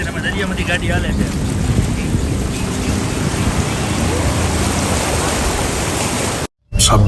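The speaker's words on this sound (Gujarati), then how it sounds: "અમે દરિયામાંથી ગાડી હાલે છે." A car pushing through deep floodwater during heavy rain makes a loud, continuous rushing and sloshing roar with wind buffeting the microphone. The noise cuts out abruptly near the end.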